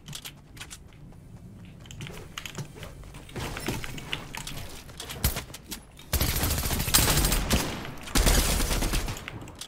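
SMG gunfire in a shooter game, rapid clattering bursts of automatic fire, with a sustained loud spray near the end broken by a short pause, over busy background game noise.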